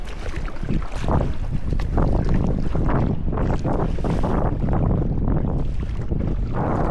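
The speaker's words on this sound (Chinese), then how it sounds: "风声真的超级大的，水超重，好难滑。" Strong wind roars continuously while paddleboarding at sea, loud gusty buffeting over choppy water throughout, with no talking.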